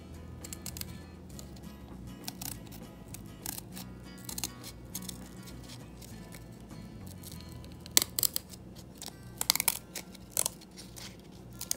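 Scissors snip through paper while a tree shape is cut out, making quiet, irregular crisp clicks and cuts that come in small clusters over a low background hiss.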